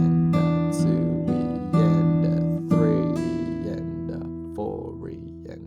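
Fingerpicked acoustic guitar playing part of a song, with distinct plucked notes and chords struck in a slow rhythm, each ringing out and decaying, moderately quiet and close.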